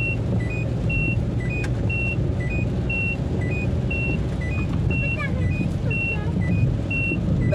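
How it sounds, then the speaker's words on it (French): A car's seatbelt warning chime rings in a steady run of evenly spaced beeps over engine and road rumble inside the moving vehicle, while people talk. "après, bah, la voiture, elle sonne"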